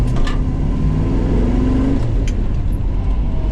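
A 1969 Pontiac Acadian SS on a test drive gives a loud, steady engine rumble and low drone heard from inside, with a brief rise in revs midway and road noise throughout, no voices.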